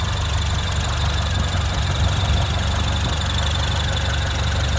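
A 1979 Ford Capri 1.6 GL Mk 3 with a 1.6 litre Pinto engine idles steadily nearby, a continuous low rumble with a faint knocking rhythm and no speech.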